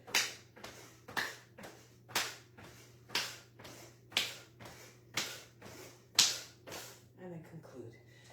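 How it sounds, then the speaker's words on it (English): Seven sharp overhead hand claps during early morning calisthenics, spaced about a second apart in a steady rhythm, close and crisp over a faint low hum, followed by quiet shuffling. "Hands clap over the head."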